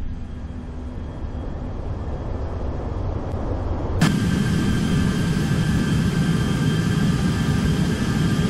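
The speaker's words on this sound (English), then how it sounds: "we're going to go ahead and extend the landing gear now" Airbus A320 landing gear extends in the X-Plane 11 flight simulator, a steady engine drone suddenly joined by a louder, broader rumble as the gear drops, and the heavier roar holds for the rest of the clip.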